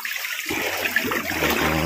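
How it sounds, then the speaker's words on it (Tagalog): Water in a mountain stream surges in after a brief quiet, rushing and splashing loudly and close at hand. "Lalo lumakas ang tubig."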